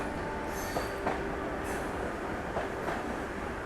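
Farakka Express train departing a station platform, a steady broadband rumble of rolling rail cars with faint wheel squeals and clanks over a continuous low roar, heard from nearby with no talking.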